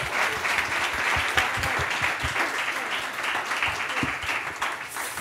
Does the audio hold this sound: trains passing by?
no